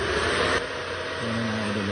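A homemade radiator cooling fan on a Mio Sporty scooter, wired straight to the battery, whirs with a loud steady rush of air and a low hum, its tone shifting slightly partway through.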